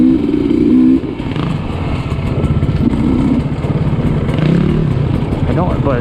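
Sherco dirt bike engine running during a demo-day ride, a loud continuous engine drone with uneven revving and wind noise, someone talking over it throughout.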